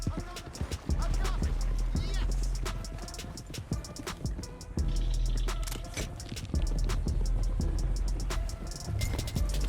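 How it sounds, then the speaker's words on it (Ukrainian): A herd of wild horses in the video game Red Dead Redemption 2 gallops in a dense, continuous rush of pounding hooves over a low rumbling backdrop, loud and unbroken throughout. "У момент, коли коні почали бігти галопом, швидко направляйся до Альберта"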